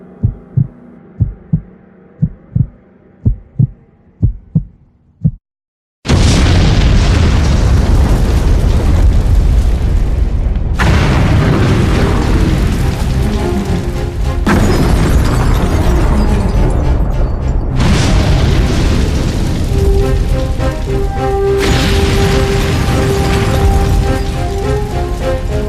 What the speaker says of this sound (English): The creators of these explosions are Tonino Guerra and Michelangelo Antonioni in their movie Zabriskie Point